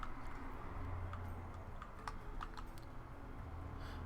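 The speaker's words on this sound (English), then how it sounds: "Is me typing showing up for you?" Keys clatter in quick, irregular bursts on a computer keyboard, close and steady, with faint background hum and no voices.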